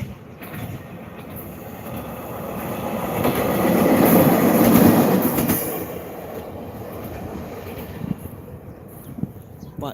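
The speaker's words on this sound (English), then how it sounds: "Let's watch the train." A train passes through a small Japanese city, its rumble and clatter swelling to a peak midway and then fading, with faint wheel squeal and outdoor ambience and no talking.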